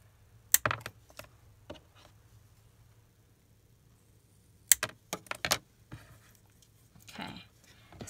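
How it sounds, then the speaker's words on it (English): Scissors snip paper cut from maps and magazines for a junk journal page: sharp, close clicks, one cluster early and a quick run of snips near the end, with quiet stretches between. "I'm going to cut"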